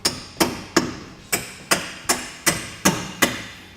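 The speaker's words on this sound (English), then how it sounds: "grab your hammer, and tap the bolt all the way through" A hammer strikes a suspension bolt on a Dodge Challenger nine times in a steady rhythm, sharp close taps with brief ringing decay between blows.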